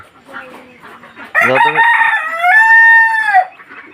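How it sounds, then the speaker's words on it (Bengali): Chickens around a village home in the morning, a few soft clucks leading into a loud, close rooster crow lasting about two seconds, then quiet. "এগুলো আমার আম্মুর মুরগি, সব কটাই আম্মুর মুরগি"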